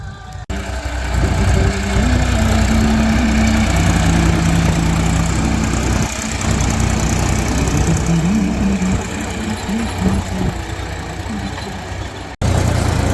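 A tractor fitted with a rotavator runs steadily on a village farm during the Diwali holidays, a loud continuous low engine drone with faint wavering tonal sounds over it, cutting off abruptly just before the end.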